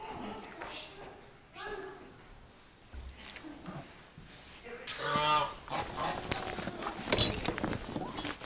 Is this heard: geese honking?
yes